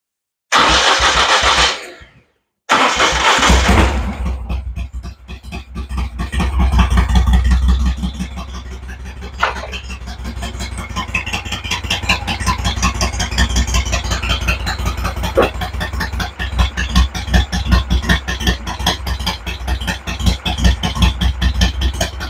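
A 1971 Moto Guzzi Ambassador police motorcycle engine cranks and catches after a brief pause, then settles into a steady, close, throbbing idle that continues to the end.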